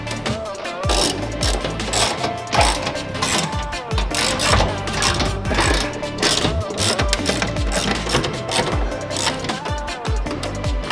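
A ratchet unscrews the bolts holding the charger module of a Nissan Leaf, a rapid, continuous mechanical clicking and whirring at close range, loud and busy for the full length.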